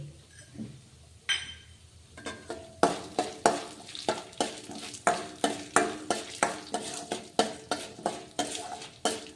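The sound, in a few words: cumin seeds sizzling in hot oil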